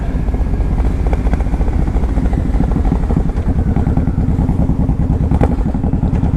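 A Honda VTX 1800 cruiser motorcycle engine pulling hard in fourth gear, loud and near, with a throaty pulsing roar that stays strong and steady.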